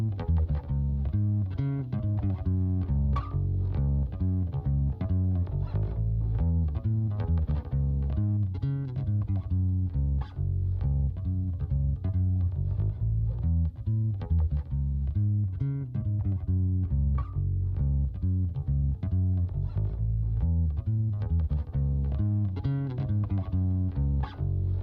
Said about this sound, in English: So here's our finished bass sound.